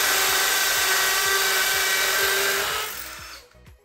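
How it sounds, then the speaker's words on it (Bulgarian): Rotary hammer drilling holes for wall plugs to mount PVC curtain rails: a loud, steady, close whine with rapid hammering pulses underneath, stopping abruptly near the end. "И се заемаме с пробиването за дюбелите на двете места,"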